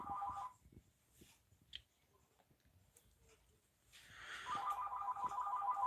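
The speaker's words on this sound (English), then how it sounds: "Uh-oh. Phone's going off." A phone ringtone goes off during a livestream, a quiet electronic melody that sounds briefly, fades, then returns louder and keeps ringing with a steady repeating tone.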